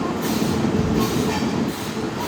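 A train rumbling at Yelamanchili railway station, the Simhadri Express, heard as a steady, close rolling roar of rail cars with faint wheel noise throughout.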